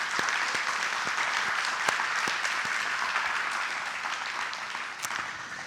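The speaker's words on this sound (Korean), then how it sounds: "우리 두 목사님께 더 큰 박수 한번." Congregation in a Korean Sunday church service applauding, a continuous full-room wash of clapping at moderate level with a few sharper individual claps standing out, easing slightly toward the end.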